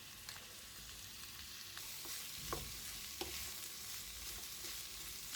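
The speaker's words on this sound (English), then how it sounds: "I'll stir fry this for few minutes and then I'll add some salt." Carrots, capsicum, corn and soya granules stir-frying in a pan: a steady soft sizzle with a few sharp spatula scrapes and taps, close and fairly quiet, no voices.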